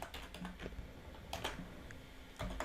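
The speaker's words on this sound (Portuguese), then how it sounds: "Então eu vou digitar aqui a senha." A password is typed on a computer keyboard in quiet bursts of crisp key clicks, a quick run, a pause, then a few more taps close by.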